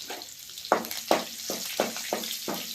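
Curry leaves and garlic paste fry in hot oil, a steady sizzle broken by six sharp bursts of spattering as the pan is stirred, close and alone with no talk.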